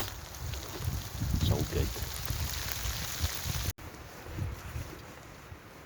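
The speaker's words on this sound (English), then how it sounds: "now it's hailstones" Hailstones patter steadily onto a wild camp in Scotland, making a dense, hissing rattle with some wind that continues throughout while someone speaks briefly over it.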